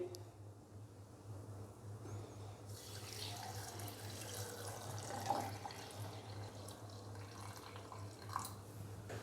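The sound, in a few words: water being poured in for cucumber juice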